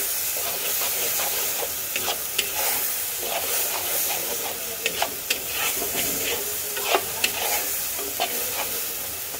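Softened onions fry with a blended spice paste while being mixed in a pan, a dense steady sizzle broken by frequent sharp scrapes and clicks of the spoon, close up and without speech.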